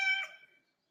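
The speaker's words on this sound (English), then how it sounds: "That's my cat. I'm sorry." A cat gives a single short, faint meow indoors, rising and quickly fading, with near silence afterward.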